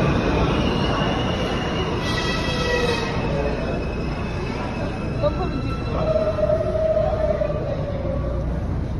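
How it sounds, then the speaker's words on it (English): A train arriving at a station rumbles loudly and continuously nearby, with drawn-out metallic wheel squeals rising over the roar. "look at the train coming right now"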